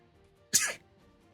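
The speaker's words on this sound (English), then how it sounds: "sorry, sneeze" A single short, sharp sneeze bursts out close to the mic and stops at once, with quiet room tone before and after.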